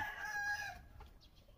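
A Kalidom breed rooster lets out a single crow, close and fairly loud, fading into quiet clucking afterward.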